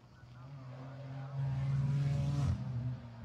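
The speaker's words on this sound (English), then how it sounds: "And the race-leading BMW then making its way up towards the timing line." A BMW GT4 race car at the Imola circuit drives past, its engine note rising to a loud peak and then fading, heard at a moderate distance.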